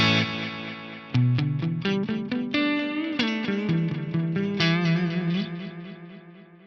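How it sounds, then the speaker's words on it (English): An electric guitar plays a run of notes through an Axe-Fx III ten-tap delay set to a multi-head tape echo style, each note trailing dense repeating echoes that smear together and slowly fade after the playing stops. "Immediately it has a little bit more of that kind of multi-head tape echo kind of thing about it"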